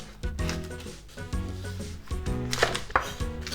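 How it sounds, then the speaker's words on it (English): A knife slices scallion on a cutting board for chicken fried rice, a series of firm chopping knocks at an uneven pace, close and fairly loud, with musical notes playing underneath. "I'm gonna cut like this kind of slices"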